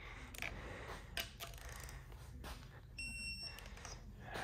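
A short, high-pitched electronic beep from a digital torque wrench rings out near the end, after some faint clicks and clatter, during a Cadillac Escalade engine lifter repair.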